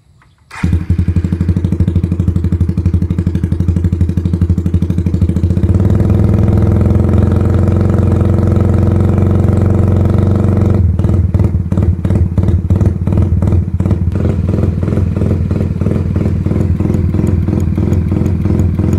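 A Suzuki Raider R150 motorcycle fitted with a big carburetor starts up and settles into a loud, close idle, a deep lumpy rumble that turns choppier and more clattery in the second half.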